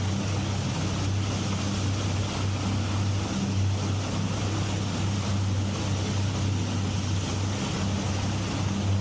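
A river taxi boat motors steadily along the Kerokan River past oil palm plantations near Banjarmasin, its engine a continuous low drone with water wash, constant and close throughout with no talk.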